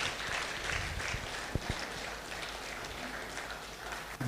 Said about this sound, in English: I think the president deserves a bigger round of applause.